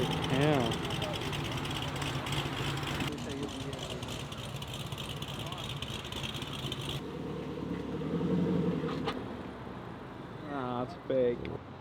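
A car engine with a performance camshaft idles with a lumpy, uneven rumble, people talking nearby and background noise dropping away partway through.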